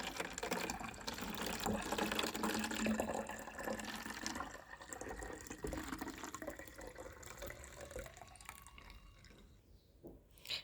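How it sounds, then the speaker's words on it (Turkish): Water poured from a container over about two teaspoons of pesticide to make one litre of spray mix, a steady close liquid pouring and filling sound that thins and fades toward the end. "2 çay kaşığı kadar ilacı koydum ve üzerine 1 litrelik olacak kadar su döküyorum"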